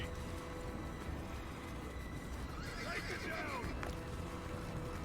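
A horse in Assassin's Creed whinnies once, a rising and falling neigh over a constant background rumble and noise.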